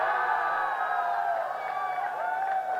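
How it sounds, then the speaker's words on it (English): Crowd at a Formula 4 South East Asia race podium cheering and whooping steadily throughout, a dense, sustained mass of voices at moderate distance. "There's a lot of applause for that as Muiz steps forward"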